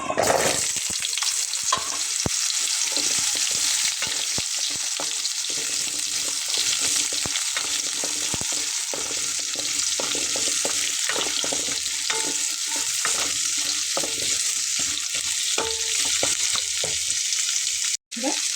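Potatoes fried in mustard oil with five-spice, dried chilli and bay leaf, a steady loud sizzle with frequent scraping and clattering from stirring throughout, briefly cutting out near the end.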